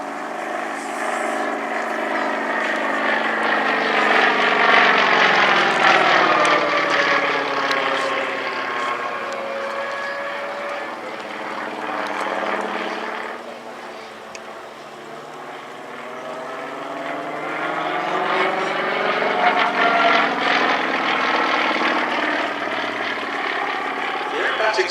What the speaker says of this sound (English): 360 horsepower radial engine up front and the 3-blade MT propeller